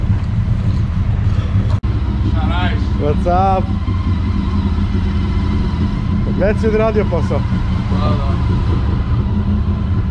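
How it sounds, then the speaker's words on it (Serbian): Motorcycle engines idle steadily and loudly close by while two men chat over them, one brief sharp click cutting through partway. "motori već rade"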